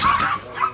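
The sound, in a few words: dogs barking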